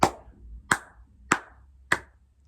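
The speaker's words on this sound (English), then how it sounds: "You get my applause" Four loud, sharp hand claps spaced evenly about two-thirds of a second apart, each ringing briefly in a quiet room.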